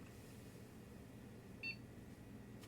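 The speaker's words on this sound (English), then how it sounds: "There we go. It beeped." A desktop computer gives a single short, clear POST beep as it boots after being overclocked, against a steady low fan hum.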